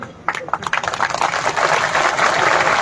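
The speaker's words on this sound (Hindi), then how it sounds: "तालियां थोड़ी कम बजी।" A crowd at a political rally in Rahatgarh, Sagar claps: scattered claps start quickly, then build into dense, steady applause that carries on for a few seconds.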